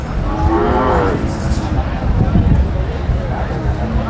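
Oxen moo loudly and close by at a cattle market in Mudalagi, Karnataka, several deep bellowing calls rising over a busy background of people talking.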